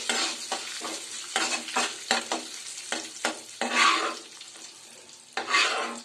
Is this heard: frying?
yes